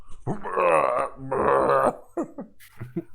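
A voice imitates heavy burps, two long, loud, throaty belches in a row followed by a few short grunting sounds, close and dry.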